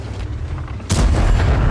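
A tank gun firing in World of Tanks during a VK 45.02 (P) Ausf. A match on the Mannerheim Line map: a steady low rumble, then one loud, close cannon blast whose heavy boom carries on to the end.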